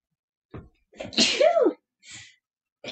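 A single loud, sharp sneeze bursts out, preceded by a short breath and followed by a quieter sound after a pause.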